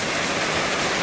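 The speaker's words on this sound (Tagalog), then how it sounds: "Kusog yung ulan." Heavy rain pours down in a dense, constant hiss, loud and close, with no break or voices.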